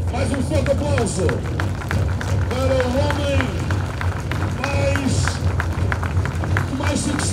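A crowd applauds a cyclist at the closing ceremony of the Grande Prémio JN road race's final stage from Porto to Vila Nova de Gaia, with continuous loud clapping and hubbub while someone speaks over it.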